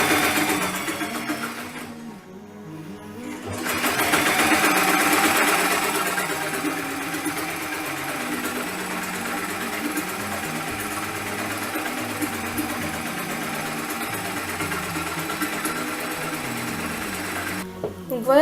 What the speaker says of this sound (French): Donc voilà, je viens de terminer de surjeter ma cape.